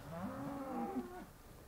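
Black-and-white cows being let out to spring pasture in East Frisia, one long drawn-out moo close by, lasting over a second against a quiet outdoor background.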